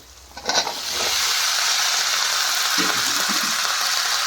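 Chopped capsicum and potato hit a hot pan and break into a steady, loud sizzle that holds at an even level, with a few stirring scrapes near the end.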